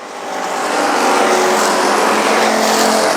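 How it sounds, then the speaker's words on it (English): Race cars at South Texas Speedway roar down the backstretch of the oval on the final lap, a loud, sustained engine howl that swells over the first second and then holds at full volume. "Castaneda faster down the backstretch than Danielson as we come into turn 3."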